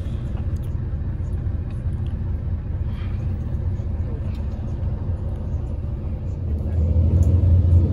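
A bus travels by road between the Thai and Malaysian immigration posts at the Sadao border, its engine giving a steady low rumble that grows louder and heavier near the end.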